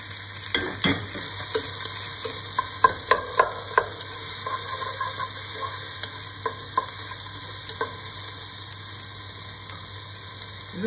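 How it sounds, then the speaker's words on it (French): Bacon lardons and onions fry in a pan over high heat, a steady sizzle with scattered pops and stirring clatters, close and alone without voices. "Les lardons un petit peu rissolés, je rajoute les oignons. Je suis à feu fort"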